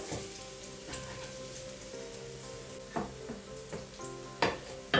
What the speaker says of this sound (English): Let that cook for a few minutes before adding anything else.